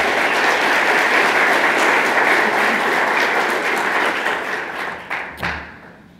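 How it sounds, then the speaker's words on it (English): A conference keynote audience applauds loudly and steadily for several seconds, the clapping thinning out and fading toward the end with a dull thud. "So if everyone could take a moment and give some applause to Alexis."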